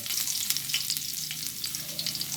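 Garlic sizzling and frying in hot cooking oil in a pan for ginataang laing, a steady crackling hiss with dense popping spatter, close and continuous throughout.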